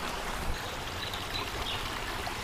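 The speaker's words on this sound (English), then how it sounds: "So it's a pretty nice looking creek here." A creek runs over bedrock in Australia's Golden Triangle gold country, making a soft, continuous babble and trickle of flowing water that stays quiet and even throughout.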